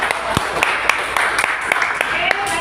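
A class of students gives a scattered round of claps for a classmate, with a handful of sharp, irregular hand claps ringing out in a room over a steady murmur of voices.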